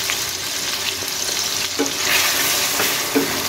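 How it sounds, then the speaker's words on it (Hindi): Garlic-ginger paste and green chillies fry in a pan with a steady, bright hiss, with a few soft knocks and scrapes of stirring, close by and without talk. "ये टमाटर, हरी मिर्च, लहसुन अदरक का पेस्ट डाल के हम इसको थोड़ी देर के लिए भून लेंगे"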